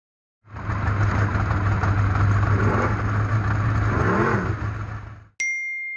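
Superstock race cars at the Robertson Holden International Speedway: a loud, sustained engine drone as a car roars past with a couple of rising and falling revs, cutting off abruptly near the end before another engine sound begins.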